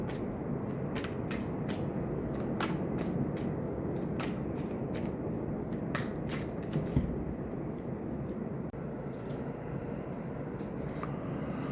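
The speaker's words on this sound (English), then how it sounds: "I'll just shuffle the cards." A deck of tarot cards riffled and shuffled repeatedly, producing quick, crisp flutters and snaps at close range over a low steady background hum.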